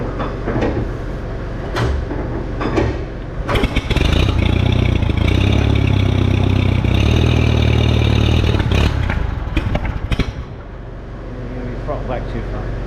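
An old Allis-Chalmers or Grey Fergie tractor engine with a carburettor problem runs loudly close by, a rough clattering idle that swells into a heavy sustained roar before dropping back, with people talking over it.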